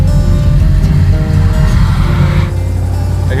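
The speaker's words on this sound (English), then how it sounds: "I hear the tires. Tires are already stuck." The tires of a 1956 Buick being flat towed drag and scrub along the road beneath a loud, steady vehicle rumble, with engine and road noise dominating at close range and no talk.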